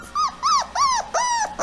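A recording of a puppy whimpering is played to attract Rottweilers, giving five close, high, rising-and-falling whines in quick succession.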